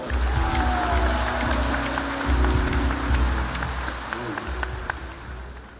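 An audience applauds inside a large indoor arena in Jamsil, Seoul, at a memorial ceremony for Vietnam War veterans, a steady wash of clapping under low music and echoing hall noise.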